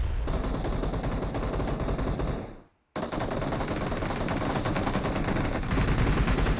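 Dense automatic gunfire from the mobile battle royale game BGMI rattles almost continuously and loudly, broken by one brief silence before the rapid shooting resumes.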